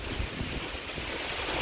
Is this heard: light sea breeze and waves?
yes